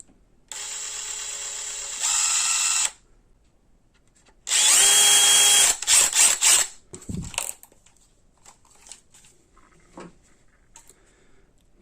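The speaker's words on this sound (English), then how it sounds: "Let me drill it out. I use the handy dandy drill here." A power drill whines through rubber while fitting a Versatrack hook onto a V20 heat gun, running in two loud bursts with a pause between, followed by brief rattling and handling clatter.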